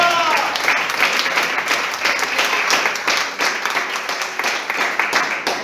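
A Spanish-speaking church congregation bursts into sustained applause during a sermon, thick overlapping clapping from many hands, loud and unbroken from start to finish.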